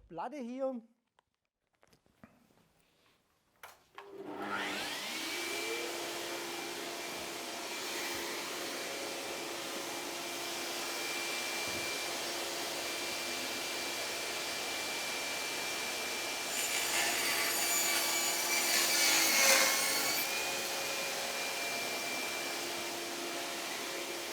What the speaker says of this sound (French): Coupons maintenant un morceau de ce panneau.